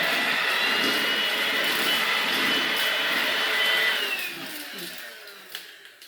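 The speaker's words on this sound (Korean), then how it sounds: "이것은 선이 없는 무선 청소기인데 버튼을 누르면" A cordless stick vacuum cleaner runs with a steady loud motor whine and airflow roar, then winds down and fades over the last couple of seconds, with no talking.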